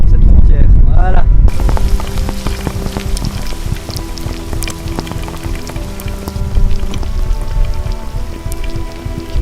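Rain patters on surfaces while a walker crosses Belgium on foot near the Dutch border, a dense, close, steady spatter with a loud gusty burst at the start.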